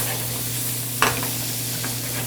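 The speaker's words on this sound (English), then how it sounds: "Beautiful sauteed tomato, some trombonsino squash, a little herb, little garlic." Tomato and tromboncino squash with herbs and garlic sauteing in butter in a pan, a steady soft sizzle throughout with a brief utensil clink near the middle, no voices.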